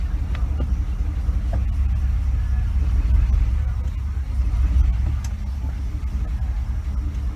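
A 1956 Mercury with a Merc-o-Matic automatic gearbox, just back on its wheels after a jack, pulling away in drive: a steady low engine rumble throughout, swelling slightly mid-way and holding close and loud.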